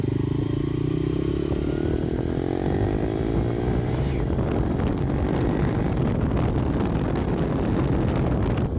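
A Honda Trail motorcycle is ridden with its engine running continuously and rising in pitch as it accelerates, heard close against heavy wind buffeting on the microphone.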